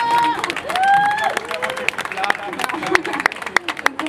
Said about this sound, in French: Vous pouvez l'applaudir, Ilham, Masterchef.